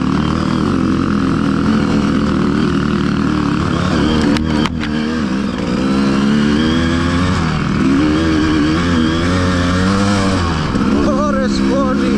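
Enduro motorcycle engine on an uphill trail ride, loud and close, revving up and down in repeated surges with a brief dip midway, while a rider talks over it.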